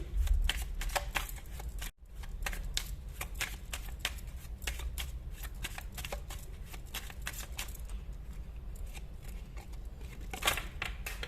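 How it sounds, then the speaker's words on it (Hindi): Tarot-style cards shuffled and drawn by hand, a steady stream of close, crisp riffling and flicking over several seconds, with a brief pause near the start. "यहाँ से कुछ कार्ड्स मैं निकालूंगी।"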